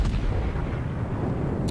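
Battleship main guns firing in the naval game World of Warships, a deep, heavy rumbling boom that rolls on for a short moment, loud and without voices.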